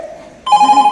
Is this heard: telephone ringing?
yes